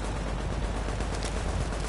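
Automated sentry turret deployed in The Division, firing a steady stream of rapid shots, dense and continuous, close and loud amid game combat noise.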